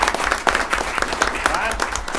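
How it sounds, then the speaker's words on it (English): Audience applause at a city council meeting, close and lively clapping with distinct individual claps and rhythmic peaks, joined by a few voices and crowd murmur throughout the short burst. "how about another round of applause for these wonderful people?"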